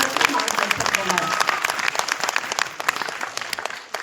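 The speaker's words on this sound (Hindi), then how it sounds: "बहुत तालियां जोर से" Loud, dense audience applause at a musical night, steady clapping from a crowd that keeps going at an even level from start to finish, with no words spoken over it.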